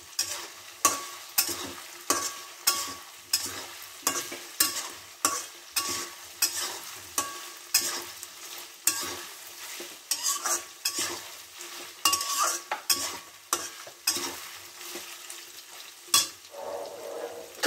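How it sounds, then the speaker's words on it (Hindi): Buffalo meat pickle stirred and roasted over a high flame: a spoon scrapes the pan in regular, close strokes about twice a second over a constant sizzle, with occasional faster flurries of scraping. "अब आग तेज करूंगी और भुनूंगी"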